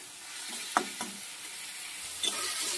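Garlic fries in a pan for a chhechra-style dish, with a steady close sizzle broken by a few sharp scraping clicks as it is stirred.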